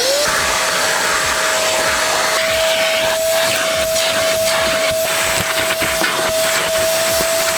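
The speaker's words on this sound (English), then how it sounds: "let's get everything out of there and let's get hoovering" A vacuum cleaner runs loud and close while hoovering a car interior. Its steady high-pitched whine is broken by scraping, knocking and bumping as the nozzle moves over the seats and carpet.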